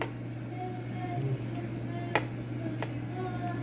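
Chicken and broccoli frying in a hot pan, a faint steady sizzle over a low kitchen hum, with a couple of sharp utensil ticks against the pan.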